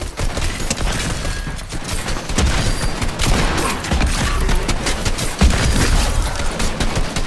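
Dense, rapid gunfire from a gun in the video game Fortnite runs as a continuous loud barrage with sharp repeated shots over game noise.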